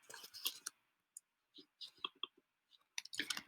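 Typing on a computer keyboard, quiet scattered key clicks in short irregular clusters with gaps of silence between them.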